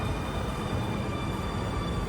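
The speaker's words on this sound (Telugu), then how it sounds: "జర్మనీలో అండర్ గ్రౌండ్ ట్రైన్ చూడండి" An underground train at a station by Munich airport in Germany gives a steady, dense rumble and hiss throughout, close and continuous with no voices.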